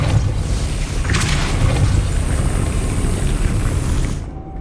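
A Depulso force spell cast in the Hogwarts Legacy video game, a loud, sustained rumbling whoosh that holds steady for about four seconds before cutting off abruptly.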